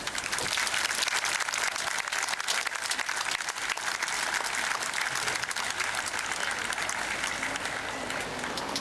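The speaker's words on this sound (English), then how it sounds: "I think a special applause for these children." A crowd at the St James Fair in Kelso applauds children, dense, even clapping that carries at a constant level throughout without any voices on top.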